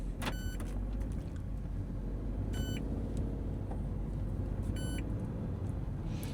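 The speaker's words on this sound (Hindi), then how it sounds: "ये सीट बेल्ट वार्निंग जो है वो देता रहता है" Seat belt warning chime inside a Citroen Aircross seven-seater while driving, three short bright beep bursts spaced about two seconds apart over a steady low road and engine hum.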